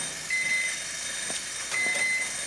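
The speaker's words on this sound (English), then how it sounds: "There's my timer." A kitchen timer gives two faint, steady electronic beeps, separated by a short gap, over a low room hum while dark chocolate melts in a microwave.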